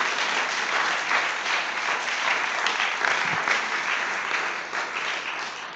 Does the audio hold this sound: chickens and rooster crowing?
no